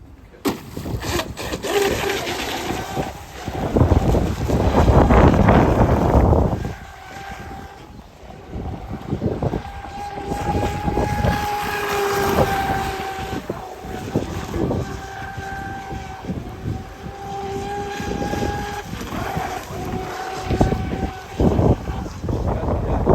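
A fast electric RC outboard motor on a boat, run on a 3S 8000mAh 100C LiPo with an automatic shaft oiler, gives a steady high whine that rises and falls over a rushing, churning background.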